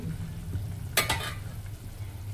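Eggs fry in a pan with a dried fish curry, sizzling softly and steadily, with a brief clatter of stirring partway through and no talk.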